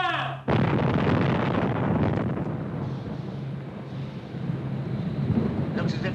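Anti-aircraft guns fire in a WWII night air-raid scene, a sudden loud blast followed by a sustained heavy roar of rumbling gunfire and booms that fills the whole stretch.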